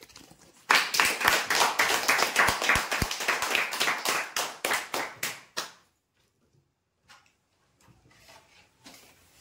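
A crowd of listeners applauds at the close of a weekly prize draw, a loud burst of dense clapping that fades out after several seconds into near silence with faint scattered noise.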